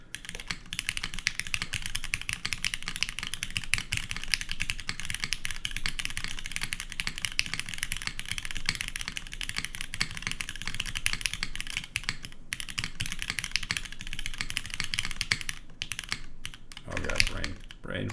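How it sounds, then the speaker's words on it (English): Typing on a rebuilt TGR x GSK 910 mechanical keyboard, a fast continuous run of close crisp key clicks and clacks with a brief pause and a louder clatter near the end. "this is what it sounds like to a normal person that's using a keyboard"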